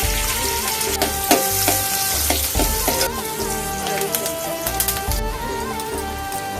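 Onion sizzles in hot oil in a kadhai with a steady crackle, and a spoon stirs and scrapes the pan now and then, while background music plays.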